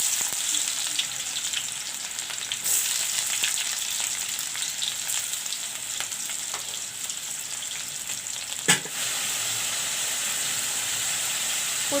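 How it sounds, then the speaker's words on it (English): Chopped onions and bay leaves fry in hot oil with a constant dense hiss close by, marked by one sharp clatter near the end. "Put in the chopped onions."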